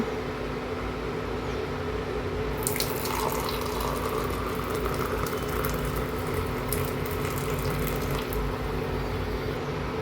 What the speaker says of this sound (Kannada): ನೀರನ್ನು ಹಾಕೊಳ್ಳೋಣ